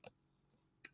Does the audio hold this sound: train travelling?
no